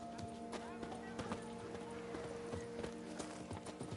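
Steady clip-clop of horse hooves at a riding pace in The Witcher 3 video game, faint and even, with voices and background game sound over it.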